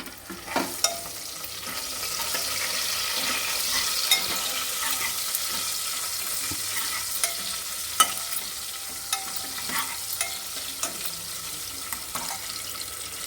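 Green chillies and four dried red chillies frying in oil with cumin for tomato charu, a continuous crackling sizzle with scattered light taps of a spoon against the pan, and nobody talking.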